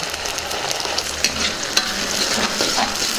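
Ginger garlic paste and tomato puree being stirred in a pan for a green peas curry, giving a steady sizzle with occasional scraping clinks of the spoon against the pan, close and continuous.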